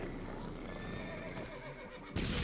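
A horse neighs loudly in The Witcher 3 video game, a strained whinny over dense, noisy game audio with hoofbeats and the sounds of a wagon attack.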